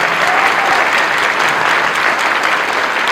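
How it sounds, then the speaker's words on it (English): Loud, dense applause from a school audience honouring the team behind a kindergarten Ramayana musical, a steady wash of clapping that holds at full strength for about three seconds. "The complete team requires an extremely loud round of applause."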